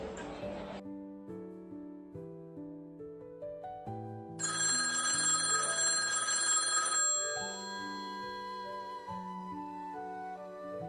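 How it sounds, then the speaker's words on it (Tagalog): A telephone rings in repeated tonal bursts against melodic background music in a drama scene, clear and fairly close. "Tumawag si Frederick na agad ko sinagot"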